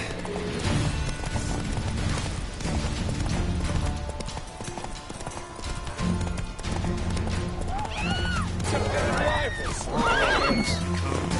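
Roach, a horse in The Witcher 3 video game, whinnies sharply over steady galloping hoofbeats, with game music and effects running loudly underneath throughout.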